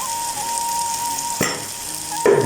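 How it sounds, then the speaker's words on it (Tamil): Eggplant stir-fry sizzling steadily in a pan with salt and chili powder, with a soft scrape of stirring near the middle and another near the end, no voices over it. "போட்டு பிரட்டி விட்டால் சூப்பரான கத்திரிக்காய் பிரட்டல் ரெடி"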